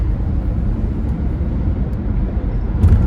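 Road traffic is heard from inside a moving car, a steady low engine and tyre rumble with a slight swell near the end and no talking.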